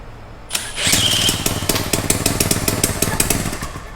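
A Honda PA 50 moped engine catches after a brief start attempt and settles into a fast, steady putter, close and fairly loud, with no voices.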